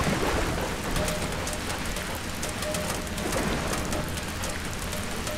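Steady, dense rain in the video game Bioshock 2 hisses continuously and evenly throughout, close and enveloping, with no voices over it.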